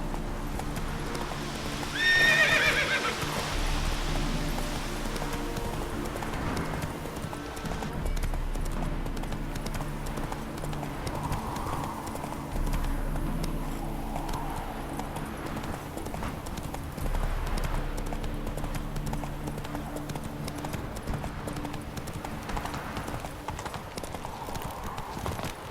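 Horse in The Witcher 3: Wild Hunt on PS4 gallops with a steady drumming clip-clop of hooves and lets out a loud neigh near the start, then keeps running under continuous in-game ambience.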